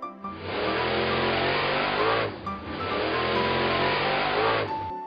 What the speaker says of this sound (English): Monster loading truck.